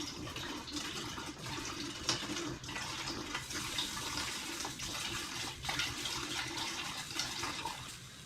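Water pours steadily from a tap into a pot for making applesauce, a continuous gushing splash heard close and alone without pause.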